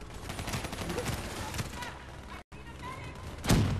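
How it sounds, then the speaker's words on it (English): Gunfire in the shooter game Call of Duty: Black Ops 3, a dense stream of rapid shots and battle noise running throughout, with a louder burst near the end. "I swear to God, who's shooting at me?"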